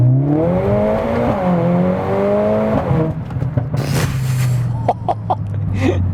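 A Mercedes-AMG A45 S with over 500 bhp accelerating hard in second gear from about 2,500 rpm, the engine note rising loudly and then giving way to sharp pops and crackles as the wheels spin.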